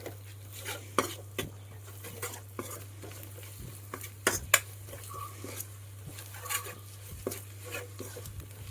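Masala spice powders are stirred and fried in a pan, with soft scraping strokes and faint sizzling under a steady low hum, the scrapes coming in irregular taps.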